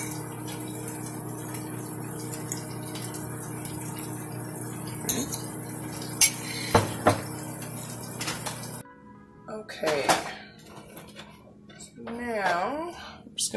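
Utensils clink and scrape against a pan or plate as cooked onions are piled onto liver, several sharp metallic taps over a steady background hum from the kitchen.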